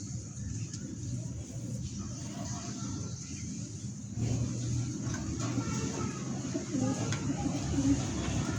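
Low, soft pigeon coos repeat close by against a steady background hum, with faint distant bird calls.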